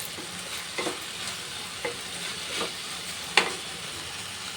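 Fiddlehead fern greens (dheki saag) are stirred in a covered pan, a soft low sizzle punctuated by a few quiet scraping strokes and one sharp clink of utensil on metal.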